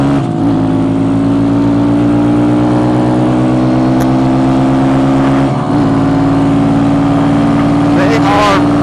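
A 2017 Kawasaki Z125 Pro and a Honda Grom ridden in a street bike shootout, small engines droning loud and steady as the pitch climbs slowly, with brief shifts in tone partway through.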